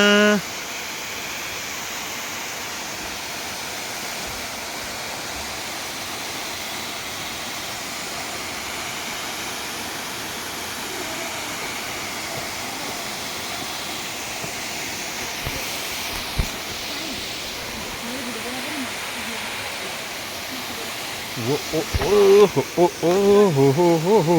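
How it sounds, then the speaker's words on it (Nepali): Steady broadband rush of the Bhut waterfall fills the scene, a constant loud roar of falling water heard up close; toward the end voices begin speaking over it. "झरना"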